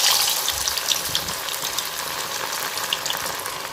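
Chicken pieces for chicken 65 drop into hot oil in a pan and fry, a loud, bubbling sizzle that stays strong and close with crackling pops throughout.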